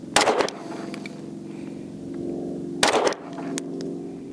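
Springfield Armory Echelon striker-fired pistol fired while zeroing at a range: two sharp, loud shots a few seconds apart, each followed by a ringing, rumbling echo tail.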